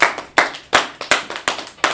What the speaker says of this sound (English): Let's clap it up in class